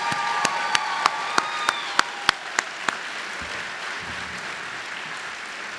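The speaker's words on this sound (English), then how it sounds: "Let's have one more round of applause for all of our award winners." Applause from an audience honoring award winners at a Rowan University College of Performing Arts ceremony, a broad steady wash of clapping with a few sharp louder claps standing out early, then thinning toward the end.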